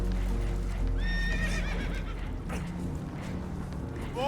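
Spooked horses in Red Dead Redemption 2 let out a loud, wavering whinny, with hoof clatter beneath, aboard a damaged boat taking on water, all over a constant low rumble of rushing water.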